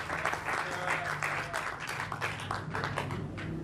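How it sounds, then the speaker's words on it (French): A church congregation bursting into lively, sustained applause and clapping during a sermon, with voices mixed into the crowd noise throughout. "Acclamez le Seigneur."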